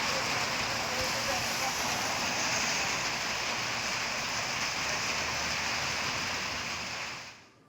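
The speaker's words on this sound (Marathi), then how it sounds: "कोल्हापूर जिल्ह्यातील शाहूवाडी तालुक्यातील हा पाऊस" Steady heavy rain hisses without a break in Shahuwadi taluka, Kolhapur district, loud and dense, then fades out at the end.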